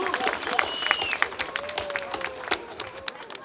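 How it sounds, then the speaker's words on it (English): Rally crowd applauding and cheering outdoors, a dense scatter of claps with a few whistles and raised voices, moderately loud and continuous over a few seconds. "Let's give Grandmaster J another big round of applause."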